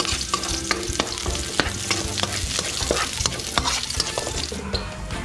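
Chili, bird's eye chili and garlic sautéing in a pan, a loud, continuous close sizzle with frequent scraping and clinking of a utensil stirring throughout.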